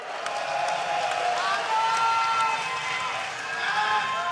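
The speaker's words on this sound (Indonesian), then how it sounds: "Berikan tepuk tangan untuk masing-masing pasangan calon Anda" Debate audience at a Bogor regency head candidates' debate in 2024 applauding and cheering for the candidate pairs, a steady dense crowd noise lasting throughout with faint tonal sounds over it.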